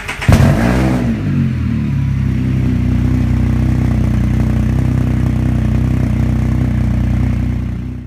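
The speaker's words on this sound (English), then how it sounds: "The pipe is really loud." A Can-Am Spyder F3 three-wheeled motorcycle with a Two Brothers aftermarket exhaust barks into a sharp rev, then holds a loud, deep, steady engine roar close to the microphone.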